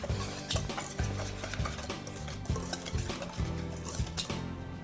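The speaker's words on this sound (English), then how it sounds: "Now I'm going to just mix up these dry ingredients." Dry ingredients including baking cocoa stirred in a bowl for chocolate protein bars, repeated scraping and tapping strokes against the bowl in a steady rhythm, close and fairly quiet.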